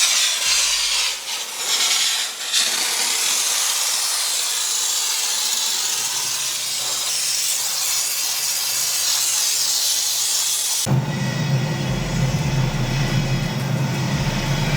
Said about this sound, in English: we're gonna give it wet steaming. So we're gonna give it more water. Let's steam it off.